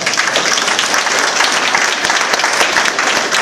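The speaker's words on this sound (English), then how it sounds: "give my homie another round of applause" Audience applause during a talk about recognizing genius in Black youth, loud and continuous clapping close up with a dense crowd texture.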